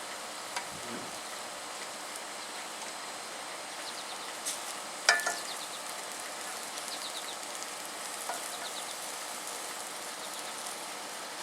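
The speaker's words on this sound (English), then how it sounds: "Just gonna hit our pepper with a little olive oil. Just gonna let that toast up nice." A pepper coated in olive oil sizzling on a grill, a steady soft hiss with faint crackles and an occasional sharper pop, close but fairly quiet, with no voices.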